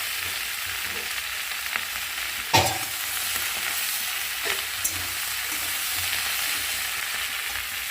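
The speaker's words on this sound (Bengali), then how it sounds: "এখানে আলু পেঁয়াজ কলি ভাজা হচ্ছে।" Potato and onion fritters frying in hot oil give a steady, close sizzle throughout, broken by a couple of brief utensil clatters.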